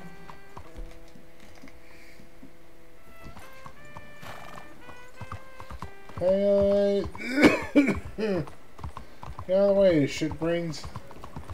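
A horse in Red Dead Redemption II clip-clops and whinnies loudly, giving two drawn-out neighs in the second half over steady hoof sounds, while a man coughs and mutters briefly.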